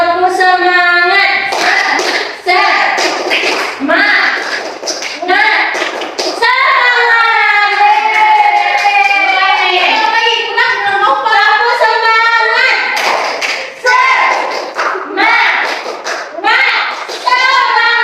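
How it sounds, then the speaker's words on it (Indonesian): A classroom of Indonesian students stands and performs a rhythmic spirit clap, with bursts of group clapping mixed into loud, sustained children's chanting voices. "Kita tepuk semangat dulu ya"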